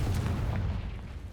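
A Confringo blasting spell explodes in Hogwarts Legacy, a single short, heavy boom that fades quickly.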